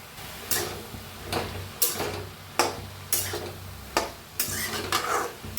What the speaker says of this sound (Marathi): ह्यांना बी हलवून थोडंसं तेल ओतून भाजून घेऊया।